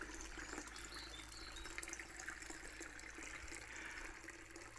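Steady trickle of water at a Cornish holy well on boggy ground, a continuous faint outdoor flow with no voices.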